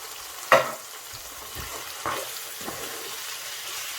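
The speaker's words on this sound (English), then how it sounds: "I have to mix all together" A spoon stirring one-pot spaghetti jollof in a pot, with one sharp knock against the metal followed by softer scrapes over a faint bubbling hiss.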